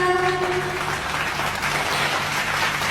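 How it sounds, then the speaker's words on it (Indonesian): A classroom claps for a student named Siska: dense, steady applause from many hands fills the space continuously, fairly loud and close, with no voices over it. "Tepuk tangan untuk Siska."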